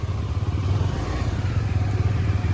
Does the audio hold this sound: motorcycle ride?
yes